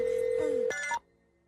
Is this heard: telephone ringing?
yes